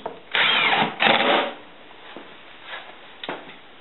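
A power drill drives screws into the top plate of a structural insulated panel during house construction, two loud bursts of whirring followed by fainter, shorter drill pulses.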